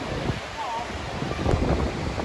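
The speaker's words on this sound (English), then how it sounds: "it's getting quite windy here" Gusty wind blowing outdoors beside the Strid, a narrow fast-flowing river, buffeting a microphone with a steady broadband rush that swells near the end, mixed with rushing water.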